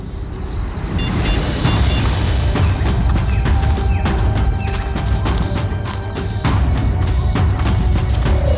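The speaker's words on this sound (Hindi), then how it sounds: "ये पटाखों की आवाज नहीं, कोई गोली बरसा रहा है।" Rapid gunfire in a jungle, with sharp shots cracking in a dense, continuous barrage for several seconds over a loud, steady background.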